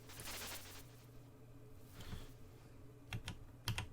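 Computer keyboard keys are pressed in a few scattered, fairly quiet clicks over a steady background hum while someone plays a flight combat game.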